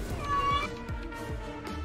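A house cat meowing close by in a room with a ringing tone, a run of several short, insistent meows in a steady rhythm, while faint electronic sound plays in the background.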